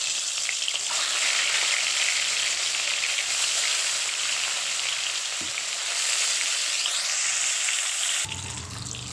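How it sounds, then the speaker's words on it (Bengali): Fish frying in hot mustard oil in a kadai in a village kitchen, giving a loud, continuous close sizzle and crackle for several seconds before an abrupt drop. "তেলটা গরম হয়ে গেলে মাছগুলো এক এক করে দিয়ে ভেজে নেব"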